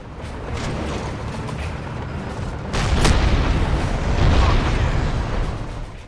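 A tank cannon in the video game Crysis fires with a sudden heavy boom that swells into a dense, rumbling roar over continuous battlefield noise, loud and close.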